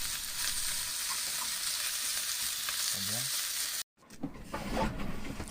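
Fish frying in a pan aboard a sailboat, a steady close sizzle that cuts out briefly near the end and then resumes with soft stirring and background noise.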